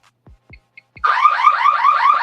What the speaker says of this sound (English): Hold on, this alarm started going off.